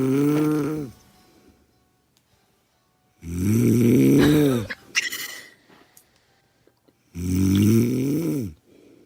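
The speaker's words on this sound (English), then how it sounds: "his recording of her snoring" A woman snoring in three long, loud rasping breaths with strong harmonic buzz, separated by quiet gaps; a brief scratchy rustle falls between the second and third snores.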